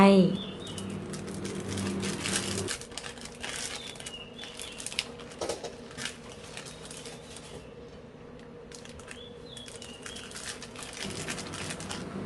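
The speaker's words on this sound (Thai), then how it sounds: "แล้วก็นำสะเดาค่ะ บรรจุใส่ลงไปในถุงพลาสติกเลยค่ะ" Fresh neem shoots being stuffed into plastic bags, giving a steady crinkling and rustling of plastic close up, with a few faint bird calls in the background.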